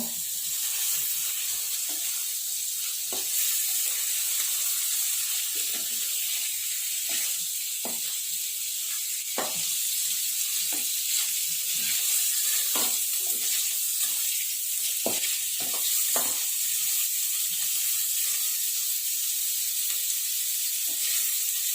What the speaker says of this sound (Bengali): এই ব্যাটারের সাথে দিয়ে দেবো চিকেনটা। প্রথমে একটু ফ্রাই করব।